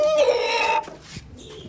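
A pigeon in a home mini zoo gives a short throaty call up close, followed by quieter rustling and a soft coo, with no one speaking.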